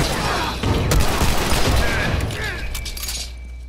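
Rapid bursts of gunfire crackle through a firefight in The Last of Us on PS4, loud and close, with voices mixed faintly under the shots.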